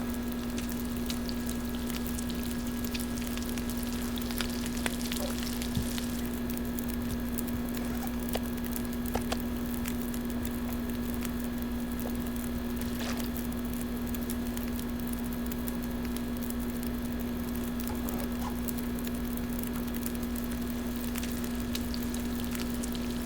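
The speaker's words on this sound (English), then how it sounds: "we'll at least get this wolf meat cooked" Wolf meat cooks over a reclaimed-wood fire in The Long Dark, a steady crackling, sizzling patter with a low constant hum beneath and sporadic sharper pops, continuous and fairly loud with no talk.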